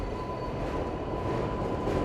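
A New York City subway 7 train passing through near the 74th Street station in Jackson Heights, heard as a continuous, moderately loud rumble and rattle of rail cars that holds steady throughout.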